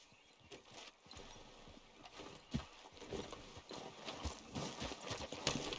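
Horse hooves clip-clop steadily on the ground in the Red Dead Redemption 2 video game, an even walking rhythm at moderate distance that grows a little louder over several seconds, with no talking.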